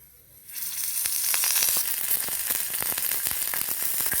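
Green and Byadgi chillies frying in hot oil alongside tomatoes for a peanut chutney, a loud steady sizzle that swells in after a quiet start, with occasional crackles and pops.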